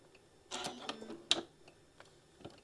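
A home sewing machine stitching a quarter-inch seam between fabric pieces, giving short bursts of quick mechanical clicking and whirring with faint pauses between runs, close and moderately quiet.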